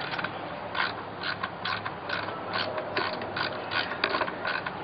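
A screw driven by hand with a ratcheting screwdriver, giving a loud, close, steady run of clicking pawl ratchets in quick repeated strokes, with no voice.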